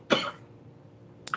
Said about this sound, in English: And now I'm real coughing.